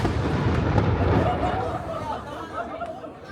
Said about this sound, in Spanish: desde el siglo XIX todos los días disparan el cañón